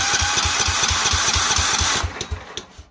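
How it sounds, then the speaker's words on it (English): Kohler single-cylinder engine cranking on a push-button starter with a rapid, even chugging rhythm for about two seconds, then stopping into a few scattered clicks and knocks without catching. "if we put that in the up position, we can start the motor"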